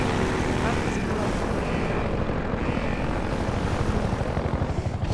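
A helicopter in Half-Life 2 drones with a loud, steady engine roar and rapid rotor chop pulsing throughout, close and dominant, with speech partly present beneath it.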